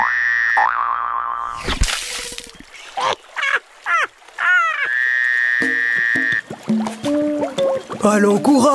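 A cartoon frog croaks in short bursts between springy boing effects and bright tones, loud and upfront, set against a lily-pond scene from a French children's song.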